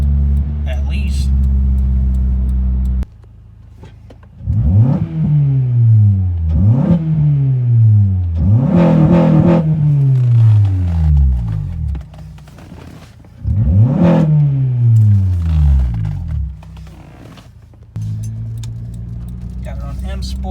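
An Acura TSX CL9 fitted with a DNA Motoring catback exhaust idles, then revs sharply four times, each rev climbing and falling back, loud and close, before settling back to a steady idle.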